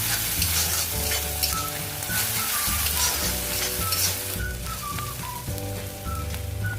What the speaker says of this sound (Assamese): মই ইয়াতে আদা নহৰুৰ পেষ্টখিনিও দি দিম আৰু এইখিনিৰো কেঁচা গোন্ধ নোযোৱালৈকে ভাজি থাকিম